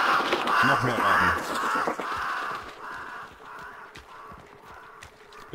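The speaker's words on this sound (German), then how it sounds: "Bitte, noch mehr Raben." Crows caw repeatedly through a match of Hunt: Showdown, harsh calls in a loose rhythm that start loud and thin out, with horse clip-clop and a faint whinny beneath.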